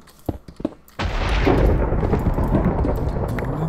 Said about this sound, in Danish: Der kommer også lyn ned i den der.